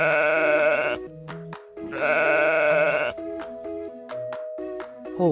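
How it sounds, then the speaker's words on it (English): A sheep bleats twice, each call a wavering, nasal baa lasting about a second, with a light melodic tune playing around and between the calls. "Sheep."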